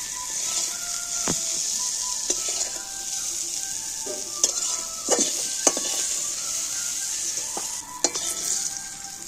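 Garlic frying in hot oil, a loud, steady sizzle close up, broken by clinks and scrapes of a utensil stirring against the pan, with no talking.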